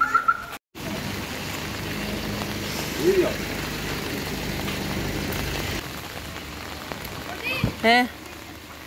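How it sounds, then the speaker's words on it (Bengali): Light rain falling outdoors makes a steady, even hiss that lasts the whole time, with a brief spoken word and a few faint voices near the end. "এই যে বৃষ্টি অল্প অল্প পড়ছে"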